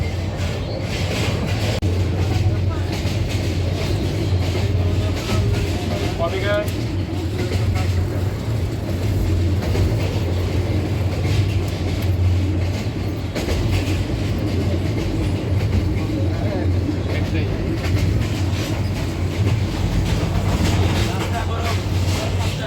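Inside an air-conditioned coach of a passenger train running from Jamalpur toward Dhaka: a constant low rumble with rhythmic rail clatter, and faint voices murmuring in the background.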